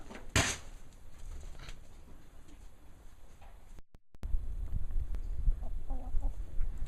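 Chickens cluck quietly in the background amid outdoor ambience, with a brief sharp noise early and a short dropout midway.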